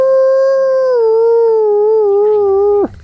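A single long, steady wolf howl holds one clear tone for nearly three seconds, loud and close, then breaks off abruptly with a short falling slide.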